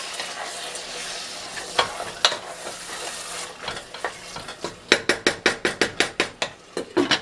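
Jollof rice stirred in a pot over medium heat, Ghanaian style: a steady low sizzle with scraping passes, then a run of about ten quick, even spoon knocks and scrapes against the pot near the end, close and moderately loud.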